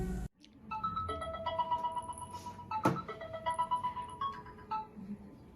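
Home telephone ringing indoors, a steady melodic electronic ring tone repeating over several seconds, moderately quiet with a brief thump partway through and no talking.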